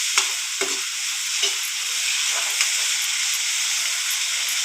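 Dried fish frying in a pan, a steady close sizzle with a few soft spatula knocks near the start, no speech.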